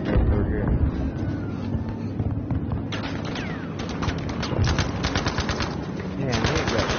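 Sustained gunfire fills a Battlefield 5 match, with rapid machine-gun bursts and scattered shots over a dense, loud battle background. The firing grows into fast rhythmic volleys toward the end.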